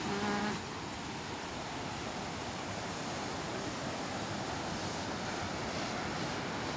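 Sea waves washing around a small fishing boat as it is launched through the surf, a broad continuous rushing wash, loud and close, with a short tonal sound at the very start.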